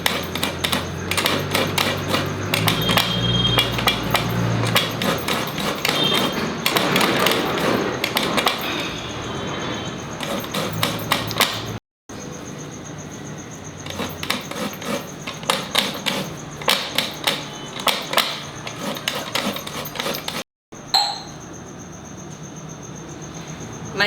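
A coconut is scraped by hand with a scraping tool, producing rapid rhythmic rasping strokes, loud and close, continuing in bursts with two brief pauses.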